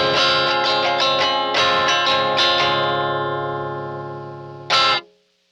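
Distorted electric guitar through a DLX cab sim into a Neve preamp with EQ, compression and tape sim, strummed chords ringing and slowly fading, then a final sharp stab near the end before silence.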